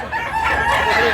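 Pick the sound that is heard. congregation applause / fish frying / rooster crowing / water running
rooster crowing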